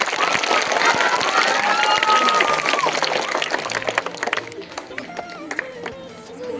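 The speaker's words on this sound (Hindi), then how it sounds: "एक बार तालियों के साथ दोनों का वेलकम किया जाए।" A school audience at a magic show claps to welcome two people, a dense wash of applause that thins into scattered claps as voices talk over it.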